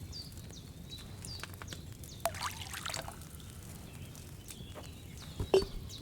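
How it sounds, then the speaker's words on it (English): Wine is poured into a cauldron in Kingdom Come Deliverance 2, a soft continuous trickle and splash of liquid over a low background, ending with a few faint clinks. "I poured wine in there"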